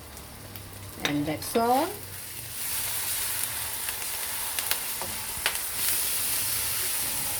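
Chili flakes sizzle steadily in a pan while cooking down for XO sauce, a continuous hiss with occasional stirring scrapes; a voice speaks briefly near the start.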